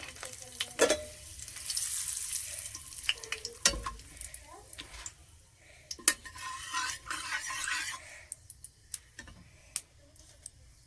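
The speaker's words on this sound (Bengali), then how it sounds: "তেল গরম হয়ে গেছে, তেজপাতা দিয়ে দিচ্ছি।" Bay leaves crackle and sizzle in hot oil in a pan, a steady close frying hiss broken by sharp ticks and a few stirring scrapes, with no talking.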